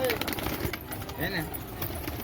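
Domestic pigeons give a few soft, low coos amid steady background noise and faint voices, moderately close.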